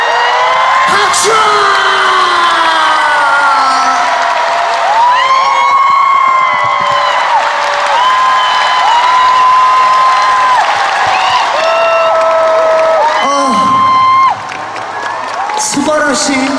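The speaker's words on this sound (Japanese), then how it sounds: "拍手。" A huge arena crowd at a Yokohama Arena concert finale roars in rising and falling waves of whooping, yelling and cheering mixed with clapping, with shouted voices swelling through the sixteen seconds before a brief drop near the end.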